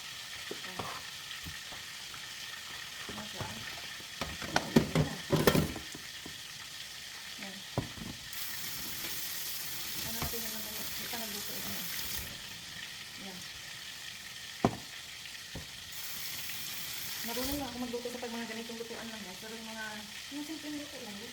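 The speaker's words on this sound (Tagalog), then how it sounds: "stir fry lang ako ng talong" Eggplant (talong) sizzles as it is stir-fried in a pan, a quiet steady crackle broken by scraping stirs and clinks. A voice talks over parts of it.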